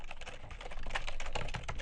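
Typing JavaScript code on a computer keyboard, a quick irregular run of soft key clicks, close and fairly quiet, with no voice.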